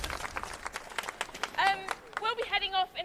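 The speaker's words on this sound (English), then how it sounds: "Can everyone give Caroline a quick round of applause?" A brief round of applause from a gathered crowd, quick scattered claps mixed with cheering voices, lasting only a few seconds.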